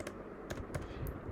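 Java code being typed on a computer keyboard gives a few close, crisp key clicks in an uneven rhythm over a steady background hiss, with no talking.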